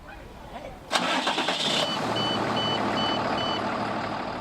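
A large truck engine cranks and roars to life, then settles into a loud steady idle while a reversing beeper chirps repeatedly in the background.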